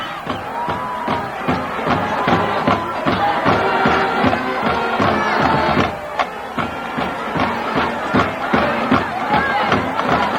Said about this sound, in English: Pretty good sized homecoming crowd on the side of Arvada.